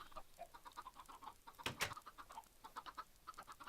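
Video-game chickens clucking around a farm base, a quiet, steady string of short clucks and chirps with one brief louder burst in the middle.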